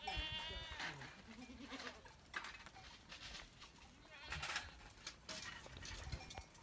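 Sheep and goats bleat repeatedly at a moderate distance during a Yörük nomad migration, several animals calling over a busy background with faint clinks.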